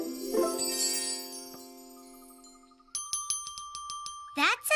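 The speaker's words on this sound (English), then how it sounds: "That's a nice little bell." A small bell rings several times in quick bright dings, then a louder, different ring near the end, with a voice talking early on.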